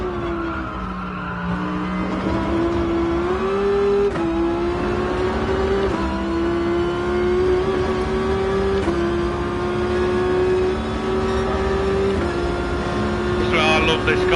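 A race car engine in the video game Gran Turismo Sport drones loudly and steadily on track, its pitch climbing and dipping through shifts and corners while someone talks over it.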